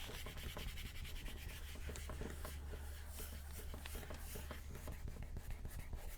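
A rub-on transfer is burnished onto a craft project in steady, quick back-and-forth strokes, a close, faint scratchy rubbing with a low hum beneath.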